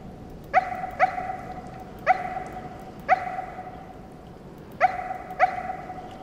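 A dog in the game Nightmares from the Deep 3: Davy Jones barks six times in sharp, evenly spaced single woofs, clear and close with no talk.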